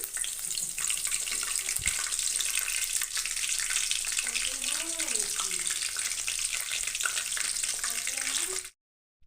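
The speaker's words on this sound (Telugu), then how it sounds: "జీలకర్ర ఆవాలు అందులో కొన్ని జీలకర్ర ఆవాలు కొంచెంగా కరివేపాకు వేసుకొని వేయించుకుందామండి" Cumin, mustard seeds and curry leaves fry in hot oil in a kadai, a dense, bright, continuous crackling sizzle heard up close that cuts off abruptly near the end, with no talk.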